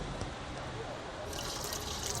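An alcohol and oil mixture is poured straight into a Fry Daddy fryer, a continuous close-up stream of liquid splashing that grows brighter and fuller partway through.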